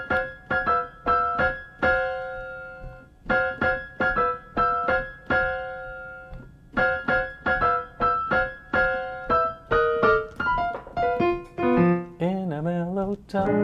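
Solo jazz piano plays an intro, crisp repeated chord stabs in phrased groups, ending in a rolling flourish, close and unaccompanied.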